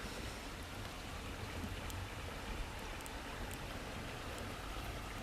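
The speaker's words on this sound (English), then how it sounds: "There's the creek." A creek flows beside an excavation site at sunset, giving a soft, continuous watery wash that stays faint and even, with a few tiny high ticks and no talking.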